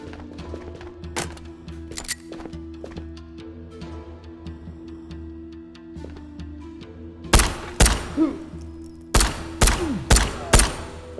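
Several bursts of TAVOR rifle fire from a video game, sharp loud shots in short clusters toward the end, after quieter scattered clicks and thumps over a steady background hum.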